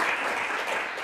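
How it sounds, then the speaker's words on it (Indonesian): Students in a university religion class clap together in a brief, dense burst of applause. "Tepuk tangan lagi dong."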